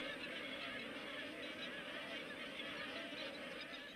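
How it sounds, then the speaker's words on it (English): A dense chorus of honking magpie geese in Australia during the wet nesting season fills the air, many birds calling at once in a continuous noisy clamor at a moderate distance. "during the wet season we have about 1 million magpie geese that will come here to nest."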